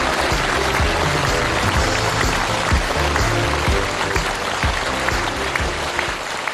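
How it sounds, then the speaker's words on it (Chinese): A studio audience applauds on an antiques appraisal show, sustained dense clapping that stays loud and even throughout. "最热烈的掌声，"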